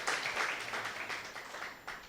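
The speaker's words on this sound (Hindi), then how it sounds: "तो ताली बजाओ" Church congregation clapping together, a brisk run of many hands applauding at moderate distance, slightly uneven in rhythm and fading toward the end.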